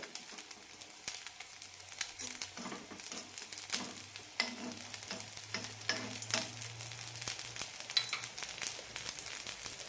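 A bun dosa sizzles and fries in oil on a pan, a steady crackling hiss with occasional stirring or scraping noises, close and continuous.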